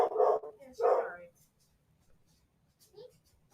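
A puppy barks twice in quick succession nearby, then a faint yip follows after a pause.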